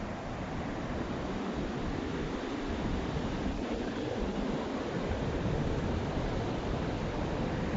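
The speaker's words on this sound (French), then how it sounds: "Je termine avec une petite cascade." Small waterfall in a château park pours in a steady, continuous broadband rush, close and even throughout with no voices.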